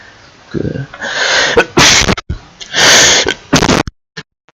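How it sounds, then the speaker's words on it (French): A loud, close sneeze bursts out with a sharp gasp and explosive release, followed by a second harsh burst and a few short breaths. "je vais vous quitter sur cet éternuement dégueulasse"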